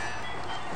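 A continuous rumbling, hissing rush of a moving train in the video game Indian Bikes Driving 3D, loud and steady throughout the short stretch with no voices.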